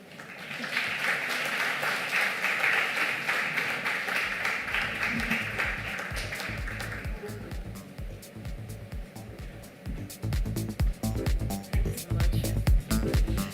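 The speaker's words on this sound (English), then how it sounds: "Ladies and gentlemen, a louder round of applause." An audience at a business event in Bengaluru applauds after a talk, a dense clapping wash for several seconds that fades and then gives way to louder, choppier sounds, with speech appearing in the later part.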